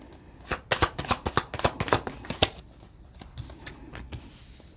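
Tarot cards shuffled by hand, a quick run of sharp, crisp riffling snaps close up, then softer sliding and tapping as a card is drawn, with no talk.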